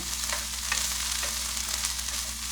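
Buffalo chicken dip ingredients sizzle and fry in a skillet, a steady close hiss filling the short stretch with a few faint stirring scrapes and no talk.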